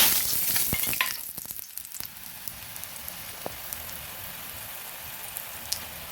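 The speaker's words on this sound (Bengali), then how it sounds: "কড়াইতে তেল দিয়েছি তেল গরম হয়েছে এখন বড়িগুলো দিয়ে দিচ্ছি" Lentil dumplings (bori) hit hot oil in a wok with a loud burst of sizzling that settles into a steady, softer crackle with scattered pops, close up and without talk.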